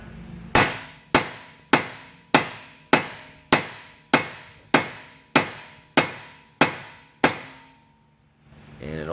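A big hammer smacks a car ball joint on a wagon during clutch work, eleven loud, sharp metallic blows in steady rhythm, each ringing briefly before the next, then a pause and faint rustling.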